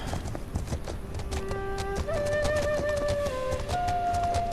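Horse hooves canter along in a historic open-world survival delivery game, a steady run of clip-clop beats under sustained musical tones, with no talking.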